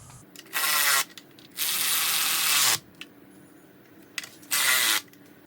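Power tool bursts tightening the 10mm valve cover bolts on a Mitsubishi Delica engine, three loud whirring runs about a second long separated by short pauses and small mechanical clicks, close by in a workshop.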